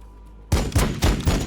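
Sudden burst of gunfire in the Warhammer 40,000: Battlesector strategy game during a multiplayer battle between Adepta Sororitas and Space Marines, starting abruptly after near-silence and continuing as loud, rapid, rhythmic automatic fire.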